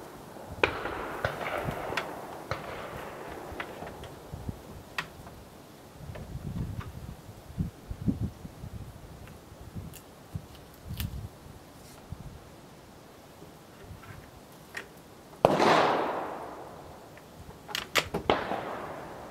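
French Chassepot rifle fired outdoors, a few sharp cracks spread apart with one louder shot near the end, over wind and rustling and no talk.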